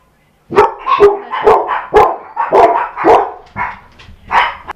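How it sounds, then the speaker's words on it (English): Indoor dogs bark repeatedly and loudly nearby, a rapid series of about eight sharp barks with brief gaps, mixed with some yipping. "my dogs are barking"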